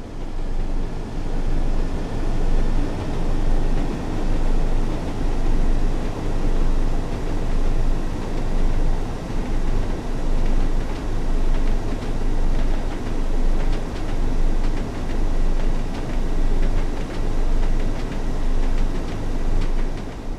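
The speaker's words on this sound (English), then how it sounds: "This Class 101 diesel mechanical multiple unit features a geared transmission" Class 101 diesel mechanical multiple unit with geared transmission running in the Train Sim World game on the Northern Trans-Pennine route, a steady low engine drone with rail rumble and faint rhythmic clatter, continuous and fairly loud throughout.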